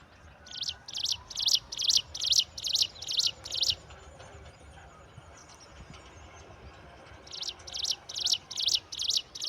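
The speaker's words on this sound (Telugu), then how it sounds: "అదే ఆ పక్షి, బుడ్డి పక్షి." A small bird calls loudly and close by in quick, evenly spaced bursts of sharp chirps. One run of calls is followed by a short quiet gap, and then a second run of chirps begins.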